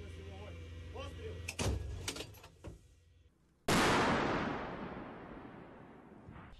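A Krab self-propelled howitzer fires a single shot on the eastern front line: one sudden, very loud blast whose roar slowly decays, after shouted crew commands and a quieter mechanical clank.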